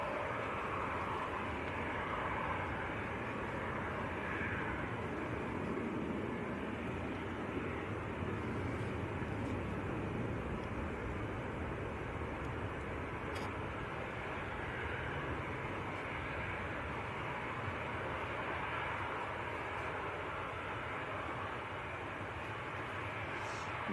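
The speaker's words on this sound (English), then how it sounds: "Next to go, Ryanair 737-800." Ryanair Boeing 737-800 departing Manchester Airport, a broad steady jet roar holding at moderate distance throughout, rumbling and even without clear build or fade, no talk.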